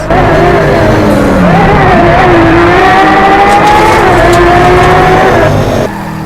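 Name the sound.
racing cars speeding on track in Driveclub VR video game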